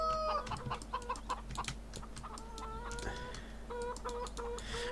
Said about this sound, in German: Ich höre Hühner. Da hinten sind die Hühner.